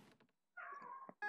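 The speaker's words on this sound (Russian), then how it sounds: "Кот с ума сходит, можете слышать." A cat meows once in a room, a short drawn-out call after a few faint knocks, followed by a sudden noise at the end.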